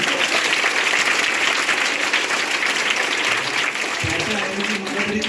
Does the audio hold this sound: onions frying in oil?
no